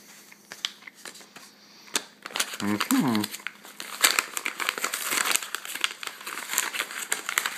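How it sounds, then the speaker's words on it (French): A paper envelope being torn and crinkled open by hand, close bursts of ripping and rustling paper, with a voice talking briefly partway through. "Désolé si je déchire l'enveloppe."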